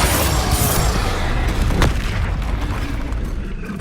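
The Incendio fire spell cast in Hogwarts Legacy, a loud, dense roaring burst with a booming, explosive quality that holds up throughout and fades slightly toward the end.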